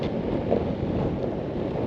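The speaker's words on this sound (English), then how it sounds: "it's just a little bit windy too" Rough, constant wind buffeting a GoPro microphone while riding a skateboard, a low rumbling roar that stays loud and even the whole time.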